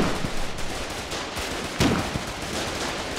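Gunfire in the Foxhole war game crackles as scattered shots and short bursts over a constant battlefield din, with one sharper, louder report near the middle.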